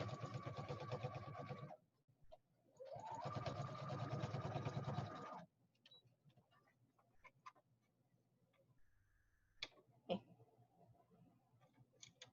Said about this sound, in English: So I'm just sewing down the edge just so it looks nice.